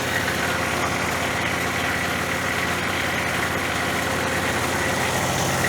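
A neglected Ventrac 4500Y diesel engine runs at a steady, loud, rough drone with broadband clatter, showing no clear rise in revs, close by and without talk.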